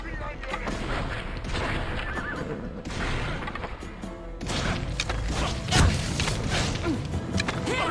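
A horse in the video game Assassin's Creed Odyssey whinnies amid hoofbeats and game sounds, with a sharp crash near the end and a voice talking over parts.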